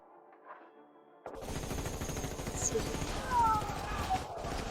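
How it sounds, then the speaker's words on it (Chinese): A rapid, sustained volley of gunfire in a fantasy battle: dense crackling shots set against heavy modern weapons fire, starting abruptly after a quiet moment and continuing loud and unbroken to the end. "谁打的燧发枪？"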